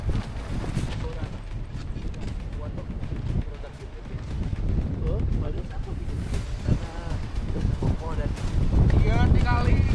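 Wind gusts on Mount Ciremai during a storm at the crater post, a rough, blustery roar battering the microphone while several people talk and move about nearby.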